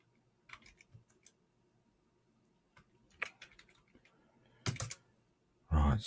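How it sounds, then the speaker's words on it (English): Sparse, quiet clicks of typing on a computer keyboard, a few isolated keystrokes and short bursts spread apart, ending in a louder clatter of keys. "keep typing the path in"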